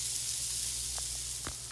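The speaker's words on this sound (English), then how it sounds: "those are sizzling and getting cooked" Close, steady sizzling hiss of sausages cooking on a grill, with a low hum and a couple of small clicks.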